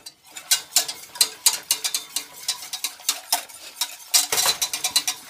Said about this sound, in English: Then I'm going to whisk that up.